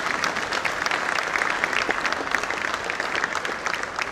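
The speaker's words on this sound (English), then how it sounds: "Please welcome her with a huge round of applause." A school event audience in Mundhwa, India applauds the arrival of the chief guest, loud continuous clapping from a crowd with crisp individual claps standing out over the steady roar.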